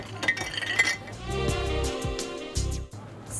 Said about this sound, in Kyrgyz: Жарымына чейин муз салабыз биринчи.